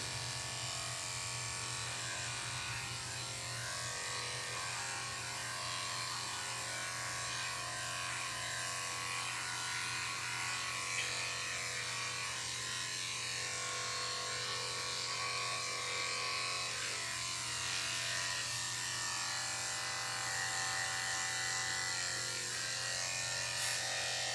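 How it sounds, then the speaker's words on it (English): Electric clippers buzz steadily and close up while shaving the outside and inside of a groomed dog's ears, a continuous hum running unbroken throughout. "now I will shave the outside and the inside of her ears"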